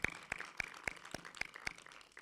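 Sparse, evenly spaced claps at an evening political rally, about eight sharp hand claps in a slow steady rhythm, faint and somewhat distant rather than a full round of applause.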